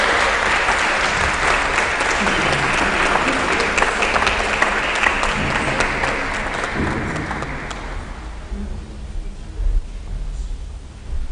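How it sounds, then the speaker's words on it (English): A symposium audience claps loudly and steadily to welcome a speaker, dense applause that fades and thins out near the end into scattered claps and room noise. "Round of applause."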